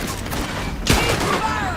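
Gunfire in the Western video game Red Dead Redemption 2: a sharp, loud shot stands out near the middle over a busy bed of distant shooting and game noise, with a voice shouting faintly underneath.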